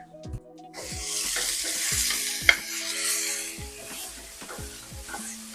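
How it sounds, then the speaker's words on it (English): Ground beef sizzles steadily in a hot pan while a utensil breaks it up, scraping through the meat in regular strokes. One sharp clack stands out near the middle. "The idea is that the beef caramelized, so I'm just gonna break it down a little bit"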